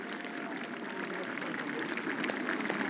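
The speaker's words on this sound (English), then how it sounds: "how about a big round of applause for all of the Hall of Fame inductees tonight" Applause for Hall of Fame inductees at a Greater Kansas City Football Coach Association all-star game, a steady, moderately distant patter of clapping from a crowd that holds evenly for a few seconds.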